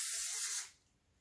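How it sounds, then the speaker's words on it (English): Texture spray lightly misted through hair, one close, soft hissing burst lasting about half a second before fading out. "to add that natural texture, we come in with the texture spray, lightly mist through"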